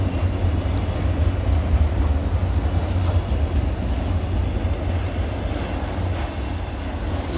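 A CSX autorack freight train, including a vintage Burlington Northern car, rolls past close by with a continuous loud rumble and rattle of wheels, steady and unbroken.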